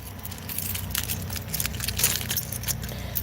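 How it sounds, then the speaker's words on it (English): A bunch of three look-alike keys jangles and rattles continuously while someone fumbles to lock a door during a home renovation, close and busy metallic clinking. "I'm trying to lock this door. Do I got the right key?"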